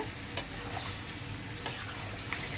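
Chicken being sautéed in a pan for a thick spiced curry, a faint, steady sizzle with a few light clicks of a spatula, close and quiet with no voices.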